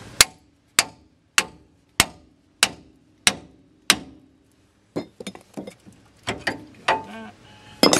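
Seven loud, evenly spaced hammer blows ring out on a Dodge Ram van suspension part during lower control arm and coil spring work, followed by a burst of lighter metallic clinks and knocks.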